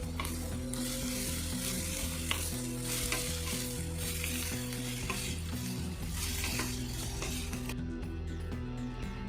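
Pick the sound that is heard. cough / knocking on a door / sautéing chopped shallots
sautéing chopped shallots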